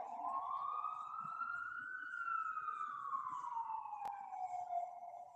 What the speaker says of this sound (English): You hear the ambulance, 911,